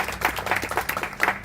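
Mourners at a memorial life celebration clap briefly, a short burst of scattered, moderately loud applause from the gathered audience.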